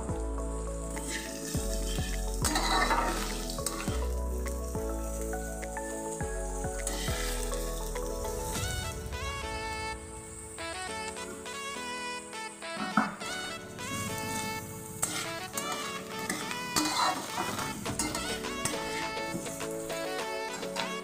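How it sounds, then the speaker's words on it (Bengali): Onion, green chili and nigella seeds fry in oil for aloo posto, a continuous bright sizzle with stirring scrapes, under a tonal musical backing that runs throughout. "এবার কালো জিরেটা ফোড়ন দিয়ে এখানে কাঁচা লঙ্কা আর পেঁয়াজটাকে আগে কিছুক্ষণ একটু ভাজা ভাজা করে নিয়ে"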